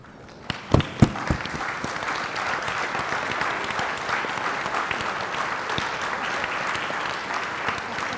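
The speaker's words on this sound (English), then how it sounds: "a warm round of applause for all the speakers" Applause from the audience at a closing plenary session fills the room with steady, dense clapping after a few sharp early claps, holding at an even level throughout with no voices over it.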